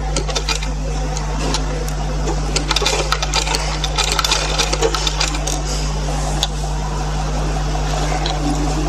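Sewing machine stitching gathered pleats into a baby cap, running steadily throughout with a continuous motor hum and quick needle ticking, close and fairly loud with no talk.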